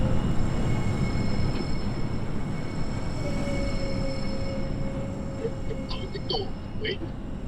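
A New York City Subway R42 train in the OpenBVE simulator rumbles steadily along the track, with a constant heavy roar, a faint tonal whine and brief wheel squeals toward the end, while a voice speaks over it.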